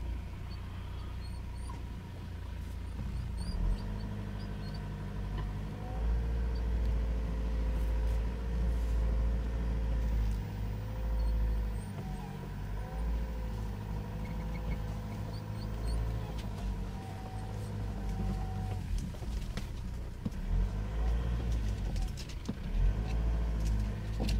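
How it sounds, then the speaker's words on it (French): Engine of a four-wheel-drive evacuation vehicle in low gear straining steadily as it climbs over a barrier, a continuous loud rumble with shifting tone and occasional knocks throughout. "maintenant on est en 4 roues motrices et on va essayer de franchir ce barrage"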